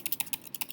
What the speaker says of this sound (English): you can see that how I start typing here.